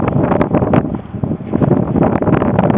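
Strong wind buffets the microphone outdoors at historic Eldorado Canyon, a loud continuous roaring rumble with gusting surges throughout.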